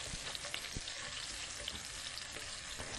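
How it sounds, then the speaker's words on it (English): Shallots and rosemary sauté in a hot pan, giving a steady, dense sizzle and crackle with small pops, continuous and fairly close. "you just want to saute those for a couple minutes so they get some nice color on them"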